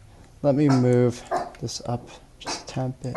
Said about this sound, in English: I believe you can hear my dog barking a little bit right